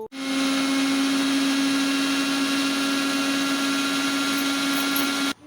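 A mixer grinder whirs loudly and steadily for several seconds, grinding ingredients with a constant high motor whine that starts and stops abruptly.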